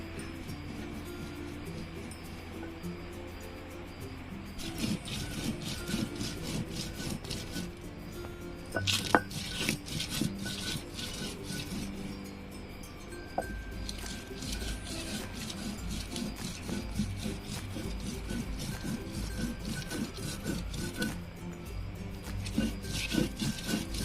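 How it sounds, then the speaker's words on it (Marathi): Garlic chutney is ground by hand on a stone slab, giving a continuous gritty rubbing and scraping in repeated strokes, fairly faint and close, without any talk. "चला तर आता वाटायला सुरुवात करूया तर जाडसर बारीक वाटायचं"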